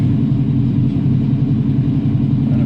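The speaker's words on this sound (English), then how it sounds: "Settled to a nice stable idle now though" A cold-started LPG car engine idles steadily at close range in near-freezing weather, a dense, even low rumble holding constant loudness throughout, with no voices.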